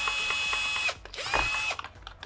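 Screws holding the grinder dome of a Jura coffee machine are loosened with a tool, making close ratcheting mechanical whirs in two bursts separated by a brief lull, without speech.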